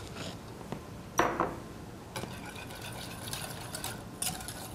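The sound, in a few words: stirring macaroni and cheese sauce in a pan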